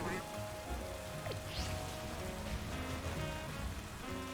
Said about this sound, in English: It's raining. We gotta get under some cover.